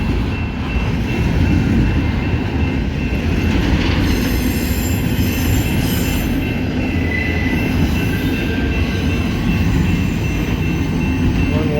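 A CSX intermodal freight train hauled by an AC44 and a rebuilt EMD SD70MAC rolls steadily past close by, a continuous loud rumble of wheels on rails with metallic squeals and rhythmic clatter.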